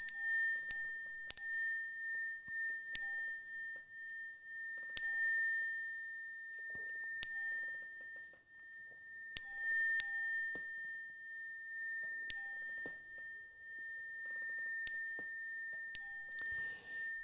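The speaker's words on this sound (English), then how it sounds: "I'm going to pick up my bell" A small handbell rung to invite bowing in a Buddhist service strikes a bright, sustained metallic ding about a dozen times at uneven intervals. Each ring decays slowly in an otherwise quiet room.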